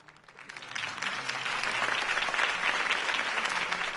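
Crowd applause following Harvey Dent's campaign speech in a video game, swelling from quiet into a broad, sustained roar of clapping from a large gathering, steady and somewhat distant.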